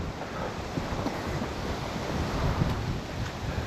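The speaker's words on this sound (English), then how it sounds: "Man, it is just a crazy windy day today." Strong gale-force wind gusts across a lake bank during fall bank fishing, a constant loud rushing buffet with uneven swells and no speech.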